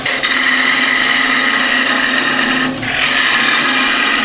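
A lathe tool cuts into hard timber while turning a gumnut pendant piece, giving a loud, continuous whirring scrape with a brief dip partway through before the cut resumes.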